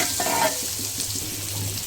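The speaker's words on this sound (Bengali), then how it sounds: "এগুলো তো হলুদ মরিচ লবণ দিয়ে চিংড়ি মাছটা আমি ভেজে নেবো ভালোভাবে লাল করে" Prawns coated with turmeric, chili and salt fry in hot oil, making a soft, close, steady sizzle with light stirring scrapes.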